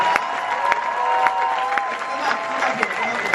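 Audience at a Paris movie premiere cheers and applauds, a dense wash of clapping and whoops with a few sharp louder claps standing out, crowd voices mixed throughout.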